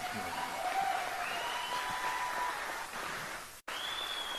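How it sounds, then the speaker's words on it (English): An audience at an event gives scattered, modest applause that holds steady for several seconds, with a voice faintly audible over the clapping. "That applause seems a little tepid."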